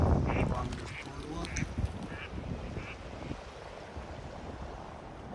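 A duck quacks a few times beside a boardwalk on a north bay walk, the calls fairly close and mixed with outdoor ambience and some faint voices in the first couple of seconds.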